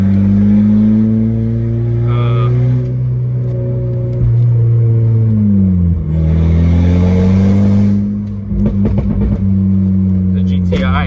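A straight-piped Volkswagen GTI engine idles loud and close with a deep rumble, then revs up and drops back in a few blips, with a voice heard over it.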